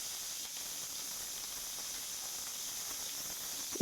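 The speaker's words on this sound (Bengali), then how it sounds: "একটু হালকা তেলের মধ্যে ভেজে ভেজে নিচ্ছে" Capsicum fries in hot oil in a pan, making a soft, steady hiss at a constant level with no clear pops, ending in a brief louder knock.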